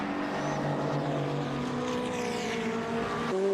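GT race cars at Oulton Park scream continuously at full throttle, several engine notes layered together in a loud, steady whine that shifts pitch as they pass, with a sudden change in tone near the end.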